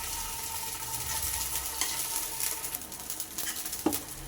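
Dosa batter frying in oil in a paddu pan, a steady close sizzle and crackle with soft stirring or scraping textures and one sharper knock near the end.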